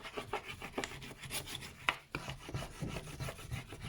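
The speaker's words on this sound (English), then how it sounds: "I'm taking my lino tool and just burnishing" A lino tool rubs steadily over the back of a lino print, making soft, close scraping strokes in a repeated rhythm with one brief sharper scratch midway and no voices.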